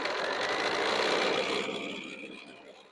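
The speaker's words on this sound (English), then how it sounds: "I'm going to start sewing down that one side" Sewing machine stitching fabric for a celebratory banner, a fast steady mechanical whir running close and continuous for a few seconds before slowing and fading out.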